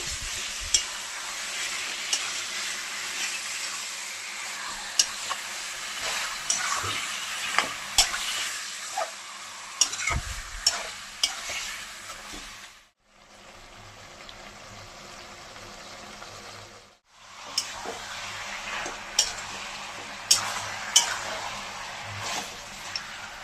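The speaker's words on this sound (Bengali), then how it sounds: "এখন ম্যারিনেট করে মাংসটা দিয়ে দেবো। এখন ভালো করে নাড়িয়ে চেড়িয়ে নেব।" Marinated chicken pieces tossed into a pan of fried onions, frying with a steady loud sizzle broken by scraping stirs and clacks of the spoon, the sizzling dipping briefly as the pan is covered and then rising again.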